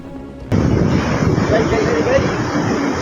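The swollen Parvati river in flood: a loud, continuous roar of rushing water that breaks in suddenly and holds steady, with heavy wind buffeting the microphone.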